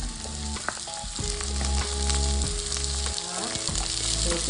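Squid and ginger fry in a pan for adobong pusit, giving a loud, steady sizzle close by with some stirring scrapes and no talking.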